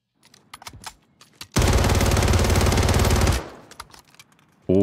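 Automatic gunfire from a weapon in a video game, one loud sustained burst of rapid shots lasting nearly two seconds, with scattered clicks and taps before and after it.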